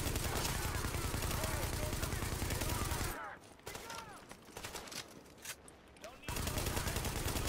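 L86 light machine gun fire in The Division: dense, rapid automatic bursts crackle loudly and continuously, break off for a few seconds of quieter sparse shots and movement, then the sustained firing resumes at full volume.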